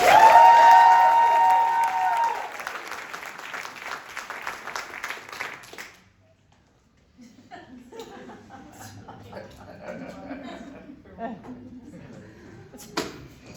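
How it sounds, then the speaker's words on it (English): Audience applause at an evening introvert-versus-extrovert debate event, loud and dense for about six seconds before fading out; after a short pause, speech and crowd murmur follow. "Give them a round of applause."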